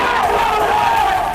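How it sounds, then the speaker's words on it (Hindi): A crowd at a funeral shouts slogans in unison, a loud massed chant of many voices held steady throughout. "और वहां मौजूद लोग भारत विरोधी नारे लगा रहे हैं।"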